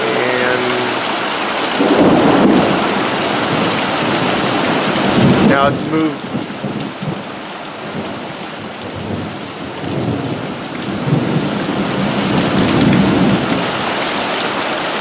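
A thunderstorm in Prescott, Arizona: steady rain pours down close by while thunder rolls and rumbles several times across the clip, with a short spoken remark partway through.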